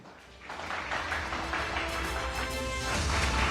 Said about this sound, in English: Big round of applause, everybody